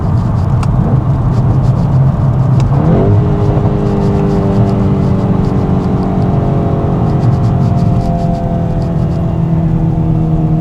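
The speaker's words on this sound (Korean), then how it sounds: "오랜만에 심장을 들끓게 하는 배기 사운드입니다" Volkswagen Golf GTI four-cylinder engine and exhaust in sport mode, a steady loud drone that rises in pitch as the car accelerates after a shift, heard alone without talk.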